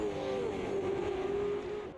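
Race cars in a Bathurst 1000 sim-racing session: a loud, sustained engine whine with gently sliding pitch, as several cars fight close together for one position, with no speech.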